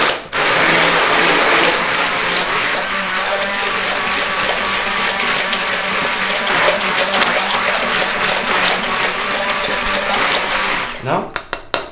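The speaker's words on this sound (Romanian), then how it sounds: "Gustul ăsta de banană poate fi obținut cu un blender" A blender whirs loudly and steadily, close up, as it purees banana into yogurt for nearly twelve seconds, then spins down with a few clunks at the end.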